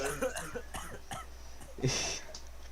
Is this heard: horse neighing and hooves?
no